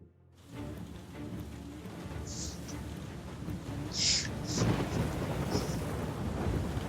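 Thunderstorm with steady rain in Uncharted 4, a continuous rushing downpour with low rolling thunder rumbles building through the scene, plus a few brief brighter cracks around the middle.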